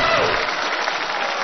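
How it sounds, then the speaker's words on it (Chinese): Studio audience applause for two comic crosstalk performers on a 2010 Chinese television talent show, a dense, continuous wash of clapping, loud and close, with a voice faintly under it at the start. "掌声送给二位"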